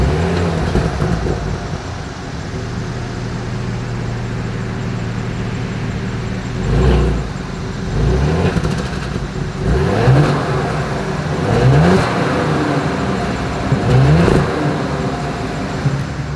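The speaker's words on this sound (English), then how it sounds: "As always, here is that exhaust clip." A 2022 Porsche Cayenne's exhaust rises and falls through several loud, close revs, each swelling briefly over a steady idle rumble.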